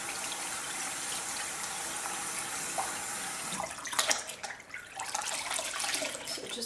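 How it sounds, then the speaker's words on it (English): A tap runs steadily into a sink to wet a flannel, a smooth hiss that becomes splashier and more uneven as the cloth goes under the stream, close by with no voices. "So just wet my trusty flannel"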